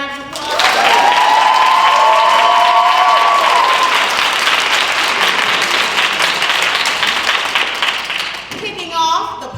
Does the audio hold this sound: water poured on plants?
no